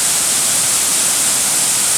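Close-up roar of a frothy cascade, a dense and constant hiss of falling water heard alone at strong level throughout.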